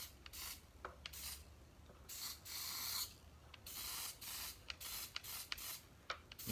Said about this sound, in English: Just gonna shoot it with our clear coat.